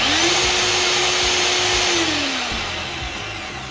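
A Walter IceCut 250P motor runs with a loud, steady whirring drone close by, its pitch holding and then sliding down as it begins to wind down.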